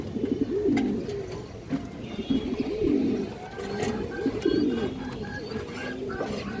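A male flying pigeon and other pigeons coo close by in a loft, giving repeated low, rolling coos in a steady series over a faint background hum.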